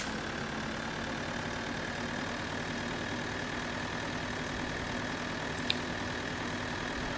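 A tractor engine runs at a steady low drone on a farm field, constant and unchanging, with a faint brief click near the end and no speech.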